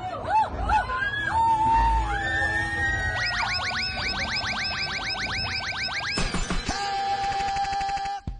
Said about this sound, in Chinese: 从美凤姐和同车游客的尖叫声啊，你就可以知道了